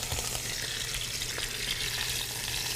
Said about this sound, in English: Ooh, the sizzle's happening. The sizzle is real.